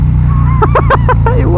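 A cruiser motorcycle's engine rumbles steadily and loudly at low pitch through a downshift, with someone talking over it for a moment.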